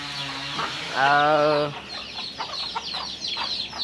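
Village chickens cluck and squawk nearby, with one loud, drawn-out call followed by scattered shorter clucks, and faint talk in the background.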